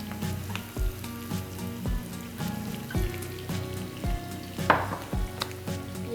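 Artichokes marinated in extra virgin olive oil sizzle and fry steadily in a pan as they brown, with a dense crackle and occasional louder pops and stirring scrapes.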